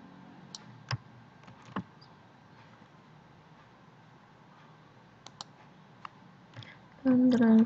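Scattered, faint computer keyboard key clicks sound one by one in a quiet room as a Ctrl C shortcut is typed, followed by a voice speaking at the end.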